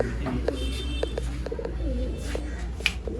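Soft, throaty coos of a female pigeon for sale in Bangalore repeat in short bursts over a steady low hum, with a few faint chirps mixed in.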